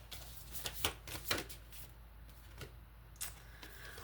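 Oracle cards shuffled by hand during a reading, a run of soft riffling bursts and taps close by, with quieter gaps between them and no talking.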